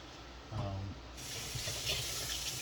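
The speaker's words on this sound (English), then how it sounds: "You always want to rinse off all of your veggies, your greens." Tap water runs over fresh collard greens being rinsed at a kitchen sink, a steady close splashing stream that starts with a brief gurgle and then continues evenly.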